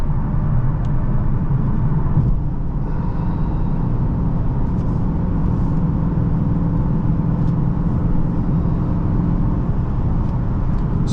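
A 2022 Dodge Charger Scat Pack with the 392 engine pulls hard under full throttle, a steady, loud, deep engine roar that holds throughout with little change.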